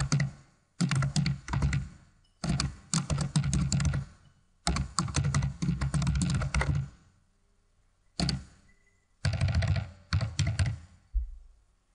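Computer keyboard typing while employee details are entered into access-control software, coming in several dense bursts of rapid key clicks separated by brief silent pauses, close and clear with no talking.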